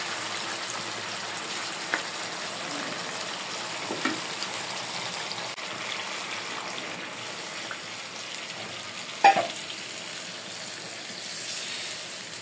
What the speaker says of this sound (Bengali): আমি এখন গরম পানি দিয়ে দেব সিদ্ধ হওয়ার জন্য মাংস।